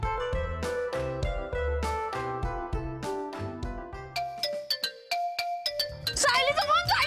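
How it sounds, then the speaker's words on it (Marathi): An incoming call from an unknown number sets a mobile phone ringing with a loud, close, melodic ringtone that repeats its tune. Bright chime-like tones follow near the end. "अननोन नंबरवर फोन आहे"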